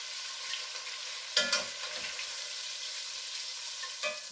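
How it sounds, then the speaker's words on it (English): Chicken for coq au vin sautéing in a pan, a steady soft sizzle with a couple of brief louder stirring scrapes, close and alone without talk. "saute the rest of it"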